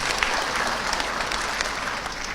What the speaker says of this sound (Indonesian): Boleh tepuk tangan untuk Datuk Anwar.